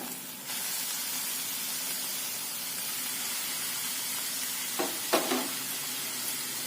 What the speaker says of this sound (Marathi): मिरची आणि कांदा थोडासा परतला गेल्यानंतर त्यामध्ये किसून घेतलेला भोपळा घालायचा